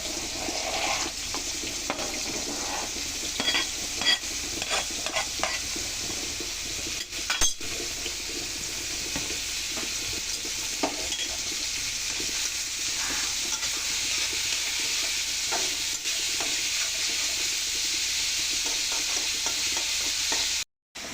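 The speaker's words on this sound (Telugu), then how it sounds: "ఇప్పుడు ఆనియన్స్ వేద్దాం." Onions sizzle and fry in a pan for egg curry, a steady crackling hiss with scattered stirring clinks and scrapes, close and continuous without speech.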